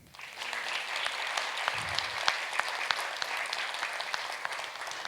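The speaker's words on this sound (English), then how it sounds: "How about a round of applause for Randy Napoleon?" Audience applauding a jazz musician at a jazz music intensive event, a dense steady wash of clapping with a few sharper claps, moderately loud and continuous without talk.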